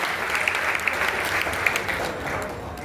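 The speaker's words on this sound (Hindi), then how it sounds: "ऐसे लोगों के लिए एक बार दोनों हाथ उठा के जोरदार तालियां" Loud, dense applause from a crowd at a free prosthetic limb camp for disabled people, steady and continuous for about three seconds with a few sharper claps standing out.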